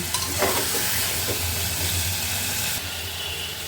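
Chicken frying in a pan with carrot, sweet potato and large garlic cloves, stirred steadily, giving a continuous close sizzle with soft scraping scrapes and no talk.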